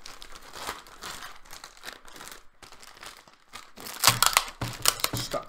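A plastic bag wrapping a new Dell laptop crinkles and rustles close by as it is handled, irregular crackling that grows louder and busier toward the end.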